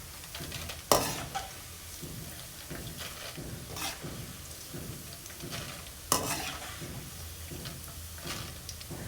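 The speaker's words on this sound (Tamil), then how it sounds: "இந்த மாதிரி தான் வேகணும் காரா பூந்தி வந்து நல்லா எண்ணெயில் வறுபட்டு" Kara boondi deep-frying in hot oil, a steady quiet sizzle with soft stirring and scraping, plus two sharp clatters of a utensil against the pan.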